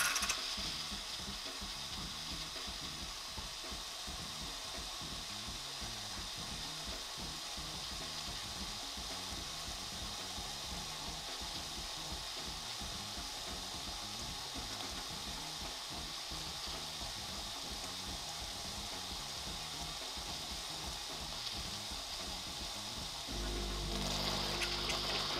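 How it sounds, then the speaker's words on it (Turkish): A Philips coffee machine gets ready to froth milk for a cappuccino, giving a steady, rapidly pulsing mechanical buzz and whir for over twenty seconds before shifting to a louder, fuller hiss at the end. "Önce süt köpüğünü yollayacak çünkü cappuccino yapıyoruz."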